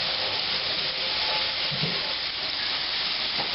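Shrimp frying in hot oil for a New Orleans po'boy, giving a steady dense sizzle and hiss that stays constant and close throughout with no talk.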